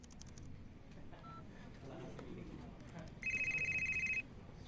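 A phone ring tone sounds while a call is placed, one steady electronic ring lasting about a second near the end, fairly clear above a low room hum.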